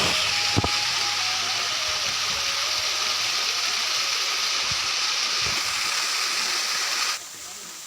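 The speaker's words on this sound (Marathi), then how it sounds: "नागझरी जी नदी पाहिली होती तिचा हा झरा आहे आता धबधबासारखा बेस्ट एकदम झाला आहे" Water from a spring of the Nagzari river pours down like a small waterfall, a steady, dense rushing roar close by that holds unbroken for several seconds before dropping slightly in level near the end.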